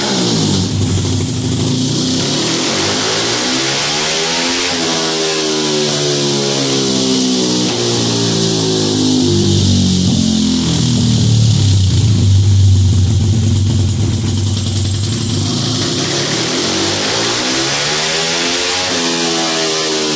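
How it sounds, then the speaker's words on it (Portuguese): A Honda CG motorcycle with a 197cc ethanol-fuelled engine and a velocity stack revs hard and close up, rising and falling through repeated sweeps over twenty seconds with no talking. "Eu vou agora fazer teste com essa moto com a corneta."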